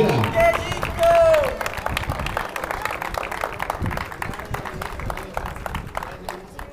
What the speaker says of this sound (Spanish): Un aplauso para los tres primeros lugares de la categoría tercera.